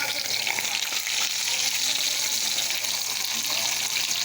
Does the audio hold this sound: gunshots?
no